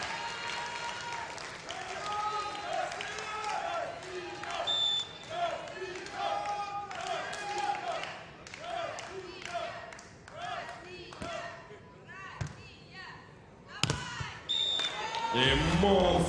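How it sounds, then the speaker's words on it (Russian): Spectators at a men's round-of-16 beach volleyball match clap and cheer in waves over the full stretch, with an announcer talking over the crowd noise and a sharp thump near the end. "прямо сейчас поддержали наших вашими аплодисментами"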